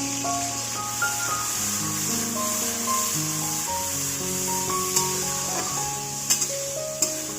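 Steady frying hiss as water from rinsing the mixing jar is added a little at a time to spice paste for a Bengali mutton and potato curry, sizzling continuously with tonal background music over it.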